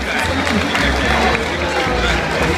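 A dense crowd cheers and applauds at the Festa dei Gigli in Nola, a loud, continuous wash of clapping and voices packed close together with no break.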